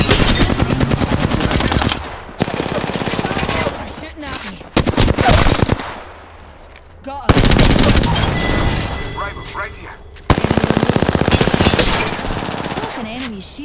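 Sustained automatic gunfire and booming shots from the Horizon video game, loud bursts with brief lulls, voices talking over the combat.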